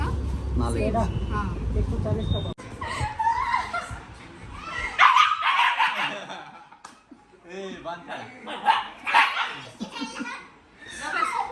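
A newly adopted pet dog barks at a home during a visit, with short bursts mixed in among lively conversation and laughter from several nearby people.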